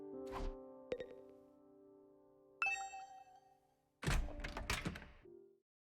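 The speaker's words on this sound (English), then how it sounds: "Is that my doorbell? Who could it be at this hour?" In the video game Last Defense Academy, a doorbell rings with resonant tonal chimes, followed by a thunk and a burst of knocking-like hits. The sounds are distinct and close, set against near silence.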